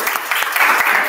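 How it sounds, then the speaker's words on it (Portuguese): Audience applause at a university innovation demo day in Arcoverde, a brief burst of loud, fairly dense clapping from the crowd. "Uma salva de palmas aqui para eles."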